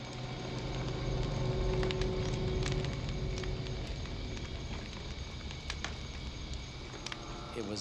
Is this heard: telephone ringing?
no